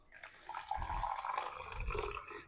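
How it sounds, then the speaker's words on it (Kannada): Water is poured into a mixer jar holding grated coconut, a steady gushing pour lasting a couple of seconds, close up and alone. "ಇದಕ್ಕೆ ನೀರು ಹಾಕ್ಕೊತಾ ಇದ್ದೀನಿ"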